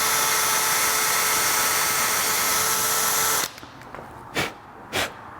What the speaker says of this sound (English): preferably I like to drill this, as deep as I can go with it.